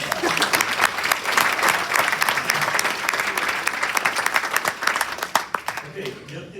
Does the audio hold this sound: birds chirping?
no